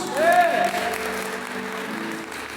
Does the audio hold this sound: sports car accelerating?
no